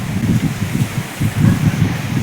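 Gusty outdoor wind ahead of a storm buffets the microphone in heavy low rumbling surges that rise and fall, loud and close, with no voices.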